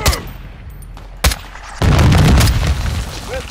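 Grenade explosion in Call of Duty Modern Warfare II, a heavy close boom that swells into a long rumbling roar after a sharp gunshot crack, with scattered shots around it.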